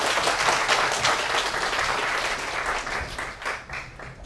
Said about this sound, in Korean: 다시 한번 선생님께 따뜻한 박수 부탁드립니다.